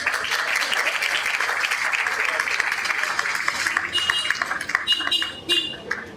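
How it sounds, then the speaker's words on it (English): Lively audience applause at a school reading fair, a dense roar of many hands that holds steady, then thins and breaks into scattered claps, with voices and cheers mixed in underneath. "Let's give her another round of applause."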